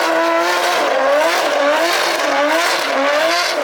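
A drift taxi car arrives on the track, its engine roaring loud and near with wavering revs throughout, with no voices over it.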